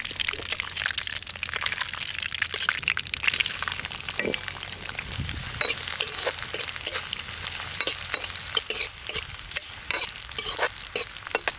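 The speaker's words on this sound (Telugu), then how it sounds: "నూనె వేడెక్కగానే మసాలా దినుసులు ఉల్లిపాయలు కూడా వేసేసుకుందాం" Whole spices and onions hit hot oil for a bagara rice and mutton curry dish, sending out a loud, constant sizzle near at hand with frequent scraping stir strokes through it and no voices.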